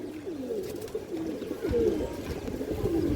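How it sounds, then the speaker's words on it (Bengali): Steady, throaty cooing comes from a close Giribaz Sobuj pigeon pair, male and female, in repeated rising-and-falling phrases that grow slightly louder partway through. "এটা মাদি কবুতর দর্শক, এই পেশারটা, এবং এটা নর কবুতরটা।"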